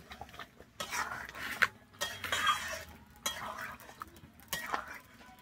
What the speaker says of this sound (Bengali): দিয়ে আমি আবারও খুব ভালোভাবে মিশিয়ে নিচ্ছি